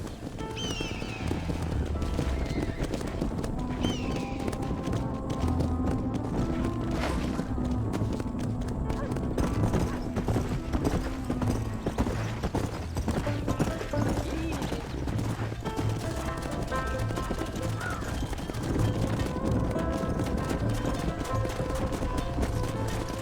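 Horses' hooves clip-clop steadily in a Red Dead Redemption scene near a pen and stable, faint under music and ambient game sound, with a whinny heard along the way.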